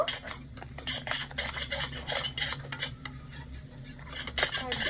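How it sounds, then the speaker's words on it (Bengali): A spoon stirs powdered milk into a pan of boiling milk while making bakul pitha, giving steady clinking and scraping against the pot over a low bubbling hum, close and continuous with no talking. "এবারে এখানে নিয়েছি দুই টেবিল চামচের মতন গুঁড়ো দুধ ভালো করে মিশিয়ে নেব"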